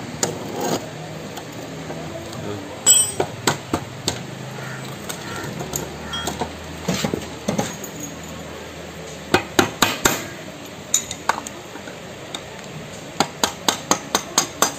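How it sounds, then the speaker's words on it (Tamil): A star screw on an Activa scooter front wheel is tapped loose with a hammer, producing sharp metallic knocks, scattered at first and then a quick rhythmic series of close, loud taps, with no voices. "ஸ்டார் ஸ்க்ரூ போட்டு அந்த ஸ்க்ரூவை தட்டிடலாம்."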